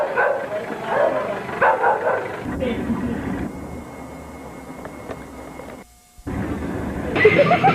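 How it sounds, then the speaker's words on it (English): A dog barks repeatedly on old, degraded VHS home-tape footage, sharp yapping bursts over a muffled, hissy background, followed by a stretch of low rumble and a brief dropout before the barking resumes. "The incessant dog barking"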